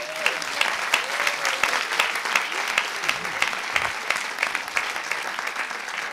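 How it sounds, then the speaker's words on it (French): An audience at a French doctoral thesis-in-180-seconds contest applauds a finalist, with brisk, steady clapping and sharp individual claps standing out, continuing evenly throughout. "Vous pouvez l'applaudir."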